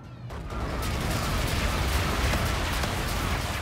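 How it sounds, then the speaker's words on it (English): Barrage of bombardment explosions called in during a match of Infinite Warfare, a dense rumbling wall of blasts and cracks that swells after a brief quiet start and roars continuously at steady loudness. "call in our bombardment"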